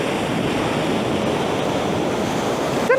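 Ocean waves rolling in on a rocky shore with groynes, a steady loud roar of surf mixed with wind buffeting the microphone, continuous throughout with no voices.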